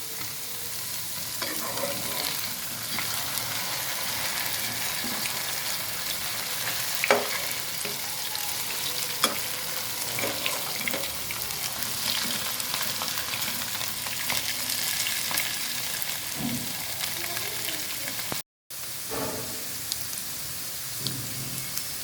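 Potato wedges frying in a pan give a steady, dense sizzle with scattered pops and light clicks of turning. The sound runs evenly throughout with no talk.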